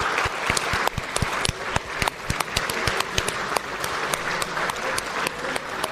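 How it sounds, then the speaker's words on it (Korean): Dense, sustained applause from National Assembly members greeting President Lee Jae-myung as he enters for his policy address, loud and continuous with sharp individual claps standing out throughout. "와, 박수 소리 보세요. 박수 소리."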